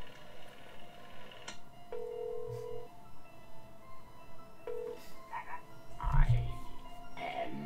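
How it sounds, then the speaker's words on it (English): Phone being dialed in the Sam & Max Save the World adventure game, a few short electronic tones stepping out one at a time against quiet background music, with a brief low croaking burst near the end. "Oh, someone's making a phone call."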